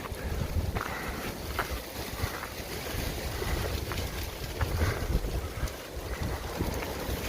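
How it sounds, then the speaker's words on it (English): Steady wind blows through ice-coated trees on a cloudy mountain trail near Carver Gap, a continuous moderate rush with faint scattered clicks of falling ice. "You can see the wind's blowing good enough to make the ice come falling off these trees."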